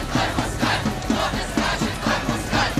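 Crowd at a street protest in Kyiv chanting slogans in a steady rhythmic cadence, many voices shouting together in repeated bursts, loud and continuous.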